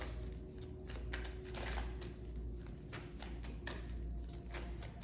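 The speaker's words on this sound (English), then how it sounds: "Shuffling for Libra to confirm." Tarot cards are shuffled by hand in quick, quiet riffling bursts with soft taps between them, close and faint with no talking.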